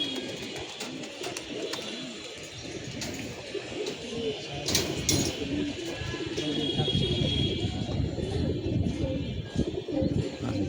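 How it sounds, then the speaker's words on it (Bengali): Several pigeons coo together at a rooftop loft on a rainy day, a steady, overlapping murmur of low throaty calls close by with occasional brief chirps. "কবুতরগুলো উড়ে নামার টাইম হয়ে গেছে, এখন আর প্রেশার দিব না।"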